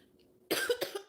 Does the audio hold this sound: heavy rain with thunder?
no